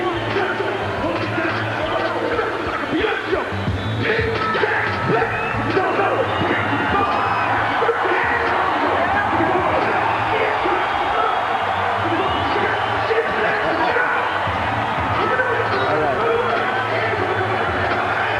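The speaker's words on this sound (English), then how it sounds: "the storm warning for Hall is being sounded by the crowd as Jones arrives at ringside." Loud, continuous crowd noise at a boxing match fills the arena as a fighter reaches ringside, a steady dense roar of cheering and chatter with scattered whoops throughout.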